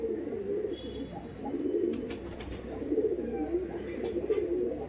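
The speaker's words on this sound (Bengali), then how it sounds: "এই দেখুন এটা দেখাচ্ছিলাম নর পায়রা" A male pigeon coos repeatedly in a rolling, throaty rhythm among a loft of more than a hundred kept pigeons, close and continuous, with no talking over it.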